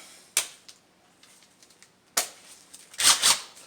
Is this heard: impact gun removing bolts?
yes